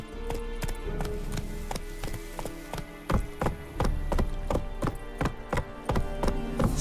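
Horse hooves clip-clop in The Witcher 3: Wild Hunt, a close, steady run of crisp woody hoof strikes at a walking rhythm with no talk over them.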